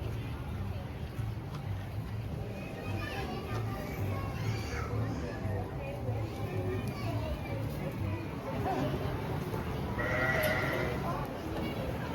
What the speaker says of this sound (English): we went to pet the goats